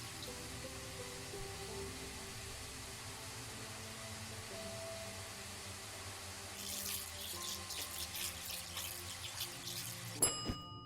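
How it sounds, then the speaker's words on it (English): Water runs steadily like a filling sink in the survival video game Undying, a soft continuous trickle that grows busier and splashier toward the end before a brief clink. "we need to boil some water"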